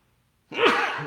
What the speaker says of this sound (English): Oh, I'm going to have to sneeze.